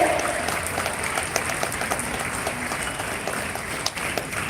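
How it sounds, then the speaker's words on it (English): Continuous applause from a large audience of schoolchildren at a school investiture ceremony, a dense patter of hands that holds steady throughout, heard from a moderate distance. "A big round of applause for her."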